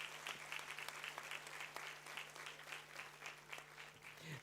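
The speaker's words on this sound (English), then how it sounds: "Let's have the applause one more time," Audience applause at a university convocation ceremony, steady rhythmic clapping from a large seated crowd, somewhat distant and soft, with a low steady hum underneath.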